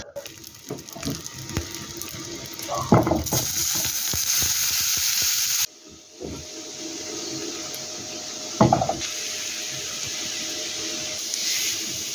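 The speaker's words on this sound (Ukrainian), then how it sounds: "Поки смажаться овочі та жарка" Steady hissing sizzle of vegetables frying in a pan for borscht, with occasional stirring scrapes and clunks over the continuous crackle.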